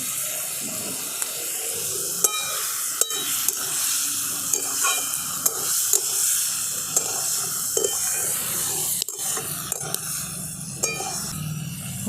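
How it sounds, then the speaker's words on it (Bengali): Elephant foot yam and prawns with slit green chillies and a splash of water being stirred in a hot pan, a steady sizzle broken by repeated scraping knocks of the spoon, loud and close. "অল্প একটু জল দিয়ে ভালো করে কষিয়ে নেব।"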